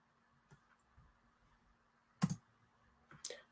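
A computer mouse gives a few sharp, quiet clicks spaced irregularly, including a louder double click, against a near-silent background.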